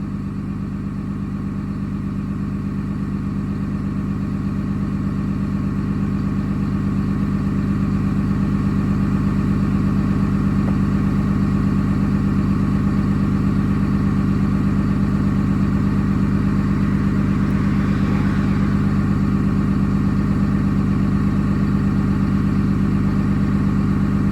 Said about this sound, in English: we're still just at the automatic factory high idle